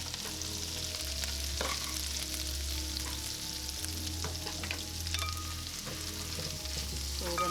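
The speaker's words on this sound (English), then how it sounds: "we're going to drop in a lot of mushrooms in this pan" Plenty of sliced mushrooms fry in a hot pan for vegetarian fajitas, giving a steady, close sizzle and crackle with a low hum underneath that runs unbroken throughout and has no voices.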